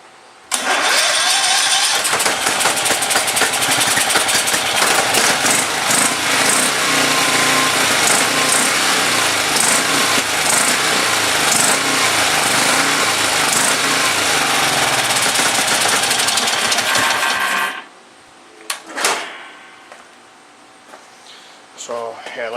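An old red MTD lawn tractor engine that leaks fuel from its carburetor runs loud and rough for about fifteen seconds, then cuts out, leaving brief clunks and a voice near the end.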